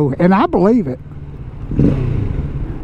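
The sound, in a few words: Kawasaki Z650 motorcycle exhaust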